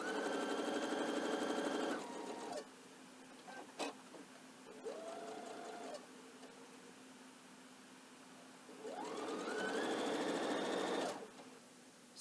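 A domestic sewing machine stitches a binding strip together in loud, steady whirring runs that stop and restart several times, with quieter pauses between bursts and no talking.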